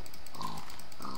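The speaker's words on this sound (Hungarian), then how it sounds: "Malac." Pig grunting in Minecraft survival mode: two short oinks, close and fairly loud, with a brief pause between them and no talk over them.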